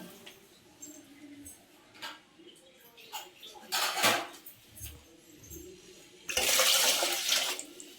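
Water poured into a cooking pot while making drumstick dal, a rushing splash that swells loudly near the end after scattered clinks and knocks of utensils.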